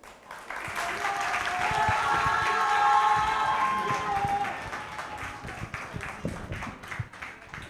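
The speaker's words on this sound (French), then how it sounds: "On l'applaudit très fort." Loud, dense applause and cheering from a crowd at an elimination round of a Wednesday holiday competition, swelling and then easing slightly over several seconds, with a sustained tonal sound running beneath the clapping.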